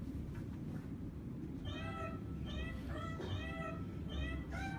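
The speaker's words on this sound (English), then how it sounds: "That sounds like a cat." A cat meows repeatedly from behind a wall, muffled and fairly faint, in several drawn-out calls over a low, steady background rumble.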